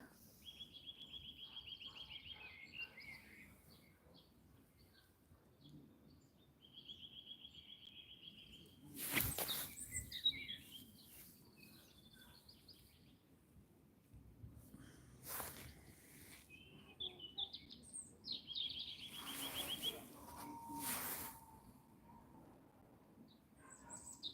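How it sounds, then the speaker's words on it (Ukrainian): Birds sing outdoors near a park bench, with short chirping trills repeating every few seconds at moderate distance, mixed with occasional louder rustling noises. "Птахи собі співають."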